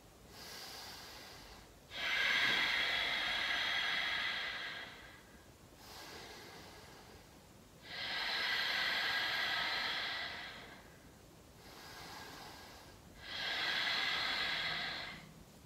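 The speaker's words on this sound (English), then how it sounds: "Take 3 deep breaths." Three slow, deep breaths during an intermediate strength and stability yoga flow, each a long airy inhale or exhale swelling for about two seconds, separated by quieter gaps; close and clear with no talking.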